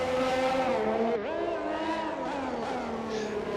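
A race car in a racing video game revs and its tyres squeal as it pivots hard through a corner, the engine whine rising and dipping in pitch, loud and close.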